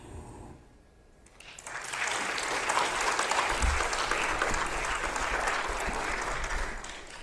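A church congregation breaks into sustained applause for a graduate, swelling quickly after a quiet moment and holding as a dense, steady wash of clapping.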